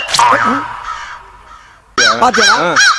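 A crow caws loudly and close by, several harsh repeated calls in quick succession after a brief burst of speech at the start.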